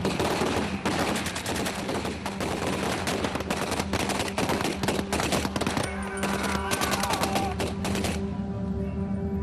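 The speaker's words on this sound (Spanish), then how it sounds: "él mismo es derribado por los disparos de una ametralladora alemana." Rapid bursts of German machine gun fire in a D-Day battle reenactment, loud and dense for most of the clip with overlapping shots, then tapering into a quieter tail near the end.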